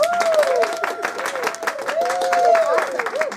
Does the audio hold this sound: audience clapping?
yes